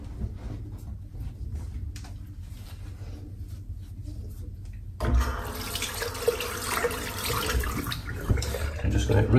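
A shaver being rinsed under a running tap: a quiet background hum shifts into a loud, steady rush of water splashing into a sink, continuing close and unbroken to the end without speech.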